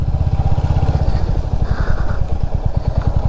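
Motorcycle engine running steadily up close, with a dense, throbbing low-frequency rumble and regular firing pulses throughout, on a ride to a bridge viewpoint in Jharkhand.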